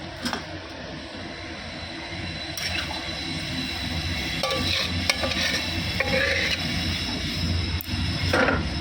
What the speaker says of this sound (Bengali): এটা ভাজা হয়ে গেছে, দিদি এখন চিকেনটা দিয়ে দেবো।